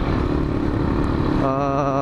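A Benelli TNT 15 motorcycle engine runs loud and close with a steady, continuous drone, and its tone shifts slightly near the end.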